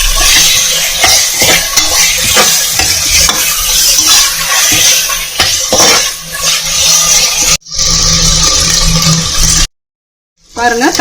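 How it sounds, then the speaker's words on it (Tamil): Tomatoes and onions sautéing in a pan for Tamil Nadu-style mutton biryani, a loud close sizzle with spatula scrapes and stirring clatter, broken by a sudden cut to near silence toward the end. "நல்லா எல்லாம் அந்த வெங்காயத்தோட சேர்ந்த மாதிரி வர்ற வரையிலும் நல்லா வதக்குங்க"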